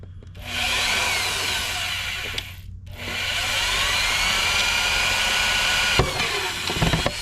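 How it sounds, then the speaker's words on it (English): A power drill cutting through a broken bolt on a 1996 Mercedes SL500 R129, a sustained close grinding whine with a brief pause midway, then a few sharp knocks near the end. "Matching your speed and your pressure to go ahead and cut all the way through this broken bolt."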